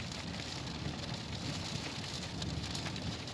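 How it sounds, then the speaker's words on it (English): Heavy rain drums steadily on a car roof during winter car camping, a dense, constant close-up hiss with no gaps and no voices. "Heavy rain,"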